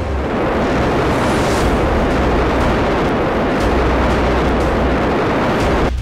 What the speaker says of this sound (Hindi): ये गड़गड़ाहट भारत की ताकत के साथ साथ इस बात की भी निशानी थी कि मोदी सरकार में